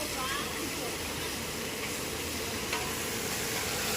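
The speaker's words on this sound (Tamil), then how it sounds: "இப்போ கொழுப்பு வந்து வதக்குறாங்க" Goat fat sautéing with onions in a pan for a Tamil mutton meal, a steady loud sizzle and hiss of frying throughout.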